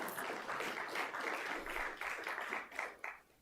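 A crowd at a city's State of the City address claps for a few seconds, a dense, lively patter of hands that tapers slightly near the end, with no talk over it.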